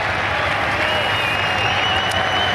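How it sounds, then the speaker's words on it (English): Sustained applause and cheering from a full grandstand crowd at the 18th hole of the Open Championship golf, greeting Viktor Hovland, dense and continuous throughout. "You hear the marvellous ovation for Victor Hovland."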